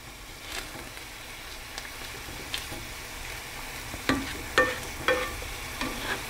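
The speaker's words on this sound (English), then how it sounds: "you want to make sure you're stirring it around to deglaze the bottom of the pan" A steak and mushroom pie pan being deglazed with a wine mixture, giving a low, soft simmering hiss under a few light spoon scrapes and taps that grow slightly more distinct toward the end.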